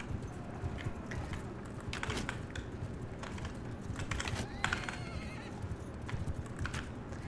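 Horse hooves clip-clop steadily with a whinny in the video game Bannerlord, layered over a busy, constant mix of battle or ambient game sound.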